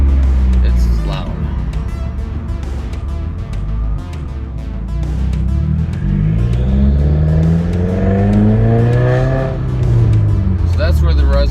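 A straight-piped 2015 Subaru WRX Stage 2+ with 276 horsepower revs loudly up and down, its harsh exhaust drone rising and falling in pitch throughout, with a voice talking over it.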